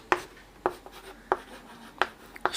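Chalk or marker strokes on a classroom board while writing Hindi text, five distinct sharp taps and scrapes spaced roughly half a second apart, close and clear with no talking.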